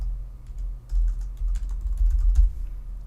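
Typing on a computer keyboard while entering test text into a default task pane app in a Word document, with soft, irregular key clicks in quick bursts, close and moderately quiet.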